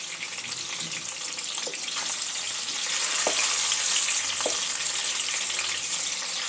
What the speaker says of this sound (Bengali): গ্যাসের মিডিয়াম টু লো ফ্লেমে মাছগুলো হালকা করে ভেজে নেব।